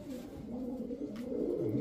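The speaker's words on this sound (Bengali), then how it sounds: "চকোমিলি রেসার মাদি কবুতর।" Female chocolate-mealy racer pigeon cooing softly in a low, continuous rolling murmur, close and alone.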